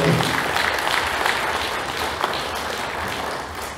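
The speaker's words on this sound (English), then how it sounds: "Let's have a round of applause." Town hall audience at a UFO conference giving a round of applause, a loud sustained wash of many hands clapping that slowly tapers over a few seconds.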